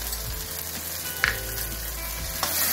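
Chhana-stuffed spiny gourd sautéing with turmeric in a pan gives a steady, close sizzle throughout, with two brief stirring scrapes breaking through, and no voices.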